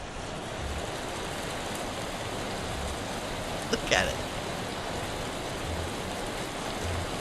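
Hailstorm in the game Vintage Story, a dense steady hiss of pelting ice that runs throughout, with a brief spoken remark near the middle.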